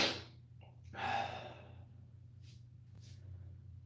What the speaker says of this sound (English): I'm slightly out of breath, actually.